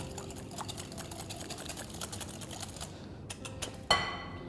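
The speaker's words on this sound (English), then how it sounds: "And using a whisk, I'll mix this properly." A whole egg whisked into cream by hand, a quick steady clicking and swishing of the whisk against the bowl, close and continuous, ending in a brief louder clank.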